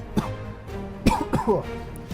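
Coughing from a person with acute bronchitis: a few separate harsh, rough coughs spaced unevenly over about two seconds, close and fairly loud, with no speech.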